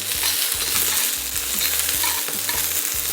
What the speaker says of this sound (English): So we just want to kind of get some color on the onions real quick.